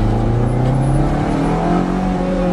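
A Ferrari engine running hard, a loud, close, continuous tonal drone with steady harmonics and a slight rise in pitch, with no other sounds over it.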